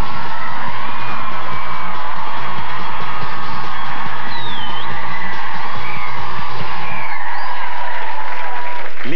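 A crowd applauds and cheers loudly for José, with sustained dense clapping plus whoops and yells for about seven seconds before it drops off abruptly.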